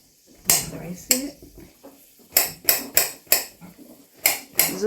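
A knife dices zucchini on a cutting board in sharp, distinct chops, roughly ten irregular hits close by, with short pauses between clusters.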